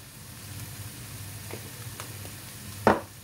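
Food sizzles quietly and steadily in a pan while cooking slowly, with a few soft clicks and one sharp utensil clink near the end, no voices.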